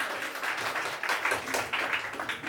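Guests at a sangeet ceremony break into applause, a steady patter of clapping from a moderate-sized audience that pulses in uneven bursts for a few seconds.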